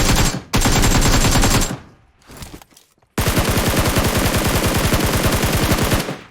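Automatic gunfire in the battle royale video game PUBG: a loud rapid burst, a short quieter gap with scattered noise, then a long sustained string of close, evenly spaced shots.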